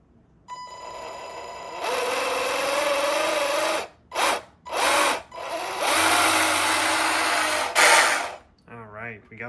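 A vintage Kyosho Santa Monica RC boat with a Jackson outboard motor whines loudly on a power test, running in several bursts of high-pitched buzzing that start and stop abruptly, with a short voice at the end.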